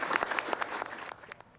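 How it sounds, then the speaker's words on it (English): Audience clapping at a police department board meeting honoring a retiring police chief. The applause is sparse and moderately loud and fades toward the end. "You should give them a round of applause."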